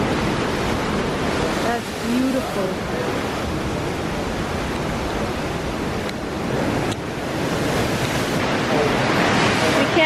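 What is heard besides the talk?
loud ocean waves on a beach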